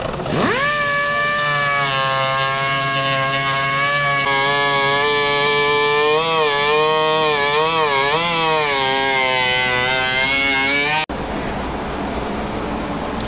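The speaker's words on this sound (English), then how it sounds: "Making the final cuts to where we can actually put the bumper on." A power tool makes the final cuts on a car bumper to fit it, giving a loud, steady high whine whose pitch wavers as it bites, running for about eleven seconds before cutting out abruptly.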